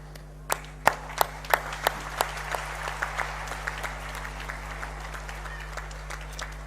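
Applause from an audience at the dedication of the 160 MW Bhainsara solar plant, built by NTPC Renewable in Rajasthan. It begins as a burst of sharp claps, then settles into steady clapping that fades slowly, with a constant low hum underneath.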